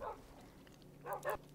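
Dogs in a video game give a few short, faint barks: one at the start, then two close together near the end, with quiet gaps between.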